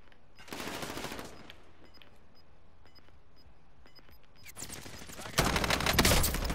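Bursts of automatic gunfire and rapid shots in Call of Duty: Modern Warfare, loud volleys near the start and a heavier, closer barrage at the end, with sparse shots between.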